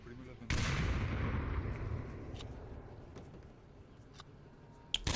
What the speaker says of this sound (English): Flashbangs coming out towards the spawn house, and a grenade as well.